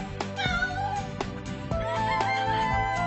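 A cat meows repeatedly in short, rising cries over a busy background of other animal-like and musical sounds, fairly close and loud, with no one speaking.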